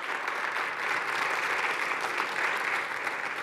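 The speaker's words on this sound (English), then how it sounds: "Can you give him a round of applause for being here tonight?" Sustained applause from a live audience at an evening church gathering, a steady dense wash of clapping that holds evenly loud throughout with no voices above it.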